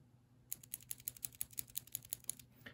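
Typing on a keyboard with Cherry MX Blue switches whose springs are lubed, a quick run of about fifteen sharp clicky keystrokes, close and crisp, on its own in a quiet room.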